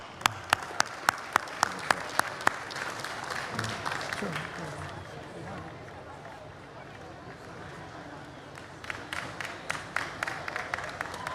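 Audience applause at the World Culture Festival for Ramnath Kovind, former President of India: a large crowd claps in a broad, steady wash, with a few sharp claps at the start and again near the end, and a murmur of voices beneath.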